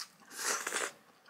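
Crunchy Korean scorched rice, nurungji, chewed close up: a short burst of dry crackling bites and crunches lasting about half a second, sharp and bright, with no talking.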